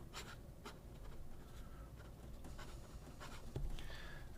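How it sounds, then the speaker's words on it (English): A pen scratches across textured paper in soft, continuous scraping strokes, quiet and close with a faint background hiss and no speech. "Very scratchy. I almost get the sense that I'm scratching the paper."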